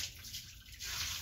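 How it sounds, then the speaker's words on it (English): A bucket of water is poured into a tub, a soft rushing splash that dips briefly in the middle and then swells again, fairly faint and heard alone. "All right, first bucket of water."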